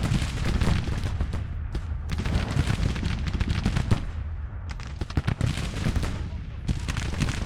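An artillery battery firing in the video game Grand Tactician: The Civil War, a dense run of booming cannon shots and crackling volleys, some close and heavy, others rolling in the distance, with a voice talking over them.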